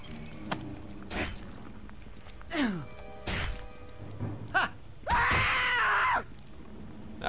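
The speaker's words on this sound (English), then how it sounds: "That was quite a scream." A character's loud scream in the video game Bormac's Infinite Dungeons 4, a strained, sustained cry lasting about a second, preceded by short game sound effects and a rising, sweeping tone.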